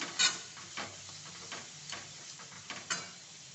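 Soaked chana dal frying in oil in a pan for an ambadi leaf dish, a faint low sizzle broken by a few soft stirring scrapes and light metallic ticks of a utensil.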